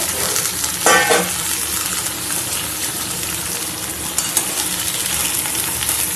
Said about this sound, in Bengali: দেখো আলু পটল ফুলকপি সব দিয়ে দিলাম একসাথে